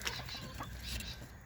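Backyard laying hens clucking softly and continuously, a close, low murmur of short throaty calls with no talking over it.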